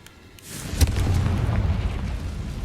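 Confringo, a fire spell in Hogwarts Legacy, bursts with a booming explosion, a swelling blast then a rumbling fiery roar that lingers at moderate loudness.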